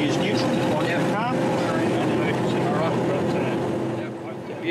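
A diesel-electric locomotive engine runs at a steady idle from the cab control stand, a constant low hum and drone with tonal whine, while people talk over it.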